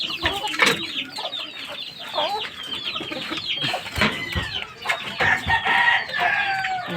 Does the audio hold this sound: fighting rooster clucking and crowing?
yes